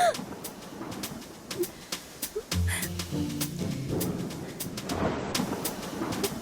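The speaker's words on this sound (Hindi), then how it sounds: "वो बाहर बारिश हो रही है" Rain falls steadily outside with a low rumble of thunder rolling through, a continuous wash of noise heard from indoors, with no one speaking.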